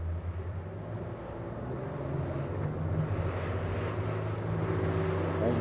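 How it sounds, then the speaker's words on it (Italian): An Invictus GT 320S powerboat with twin Yamaha 300 hp outboards pulls away in the Gulf of Tigullio, a low, rumbling engine roar that swells slightly, mixed with wind buffeting and water noise. "Un bel rombo in partenza"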